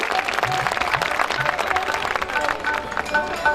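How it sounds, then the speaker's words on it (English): A school audience at an annual day celebration claps loudly and continuously, a full dense round of applause filling the hall with faint voices mixed in. "Please encourage them with a loud applause once again"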